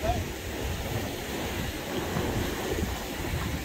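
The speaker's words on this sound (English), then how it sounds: "Ah, the soothing sounds of the ocean." Ocean waves wash onto a San Diego beach below dirt cliffs, a steady broadband roar of surf with wind rumble across the microphone, continuous and fairly close without any talking.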